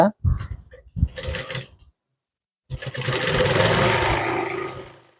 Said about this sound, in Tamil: அர்கட் போட்டுட்டு ஒரு ஸ்டிச்சிங் வந்து போட்டுங்க